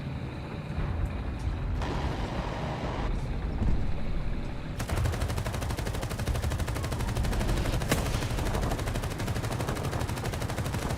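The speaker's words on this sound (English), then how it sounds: "This artillery's chasing me everywhere." Artillery barrages pound in a game battle, a dense, continuous clatter of gunfire and booming shells, loud and close, shifting in intensity with sharp cracks punctuating the din.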